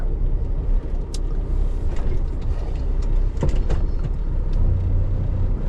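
A ZIL-130 truck drives along a rough rural road, its engine rumbling low and steady with rattles and clunks from the body over bumps, heard from inside the cab.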